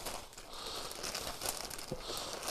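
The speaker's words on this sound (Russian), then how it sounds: "Внутри еще один пакет на замке." A zip-lock plastic bag inside a black mail pouch holding a men's jacket being handled, a brief continuous crinkling and rustling of plastic up close, without speech.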